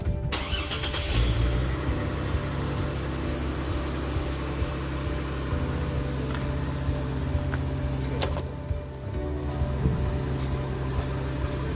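A 2004 Jeep engine with its check engine light on cranks and catches, then settles into a steady low idle that runs on, close by, with a brief dip near the end.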